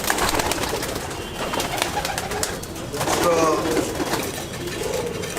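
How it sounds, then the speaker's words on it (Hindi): Pure Malwai pigeons coo softly in a loft amid constant cooing and rustling, with someone speaking briefly over the birds. "ये धन्ने वाली कबूतरी है प्योर"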